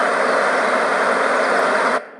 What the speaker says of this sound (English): this is the sound of a forest